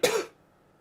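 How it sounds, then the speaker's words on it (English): A single loud cough bursts out close by, a short harsh blast lasting a fraction of a second before fading to near silence. "Whoa, big cough to start the game, that's fantastic."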